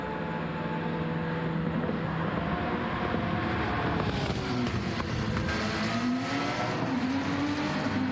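A BMW race car in a racing video game drones with a constant engine tone, its pitch sweeping up and down as the car runs, loud and continuous without speech.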